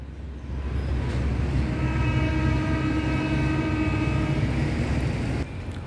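Train passing Talat Phlu railway station on the Wongwian Yai–Mahachai line, a loud, steady rumble of wheels on rails with a sustained tonal hum that fades away near the end.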